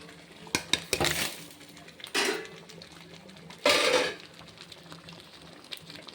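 Fried paneer going into boiling palak gravy in a metal pan: a few sharp clinks of a spoon against the vessel, then scraping and stirring bursts at intervals, close by, with a quiet background between.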